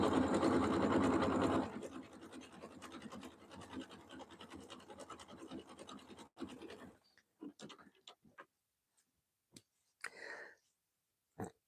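A sewing machine stitches a rug round and round in a steady, loud mechanical whir for about seven seconds, then stops, leaving only a few scattered clicks and brief bursts afterward.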